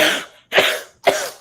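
Three sharp coughs in quick succession, close and loud, each a harsh burst with short pauses between.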